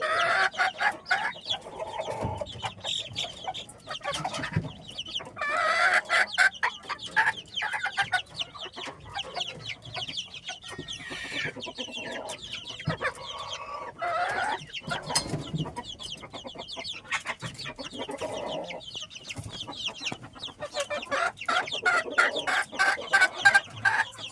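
Hens and young chicks keep up steady clucking and constant shrill peeping inside a coop after the brooding mother hen is taken away. The noise is loud and continuous, with no talking.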